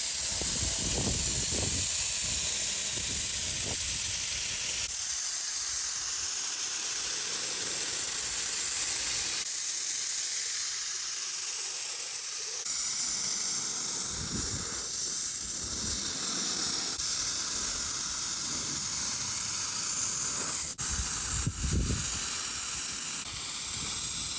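Steady hissing spray from a paint gun painting a Saab 9-3, continuing in long bursts with brief pauses, fairly close and loud throughout.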